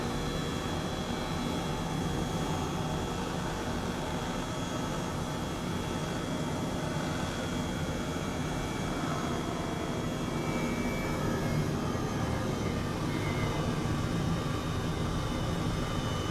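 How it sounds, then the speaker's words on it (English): Airbus H135 helicopter engine in Microsoft Flight Simulator: a constant, loud turbine roar and whine that holds steady throughout without breaks. "I'm using both of my hands to fly the helicopter"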